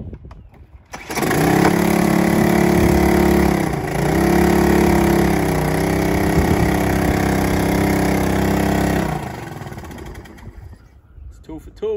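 A small Honda outboard motor on a dinghy starts and runs steadily at close range, a loud buzzing drone with slight dips in speed before it cuts off, leaving a quiet tail.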